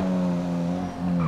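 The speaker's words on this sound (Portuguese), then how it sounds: "agora eu estreiei o freio desse carro aqui, mano" A car brakes hard in traffic, its tires letting out a sustained squeal over engine noise that dips and then rises again.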